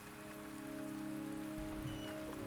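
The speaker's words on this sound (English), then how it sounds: "The rain is subsiding" Steady rainfall pattering on surfaces in the video game Wuthering Waves, a continuous, even wash of drops with a faint tonal hum beneath, no voices.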